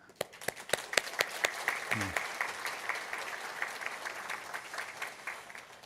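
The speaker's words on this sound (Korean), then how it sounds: "우리 잠깐 일어나시면 박수로 환영하겠습니다." A church congregation at a Sunday worship service claps to welcome a visitor from Hong Kong, starting with a few sharp claps and swelling into steady, moderately distant applause.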